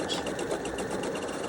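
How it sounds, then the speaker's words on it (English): A sewing machine makes a short back stitch, giving off a close, steady mechanical hum with a fast regular pulse that lasts about a second and a half. "Back stitch."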